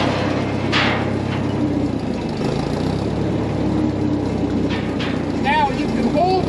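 A Bantam T35 crane mounted on a 1945 WW2 GMC 6x6 truck runs steadily while its bucket is released to open, with brief squeaks and mechanical creaks over the continuous engine drone as someone talks throughout.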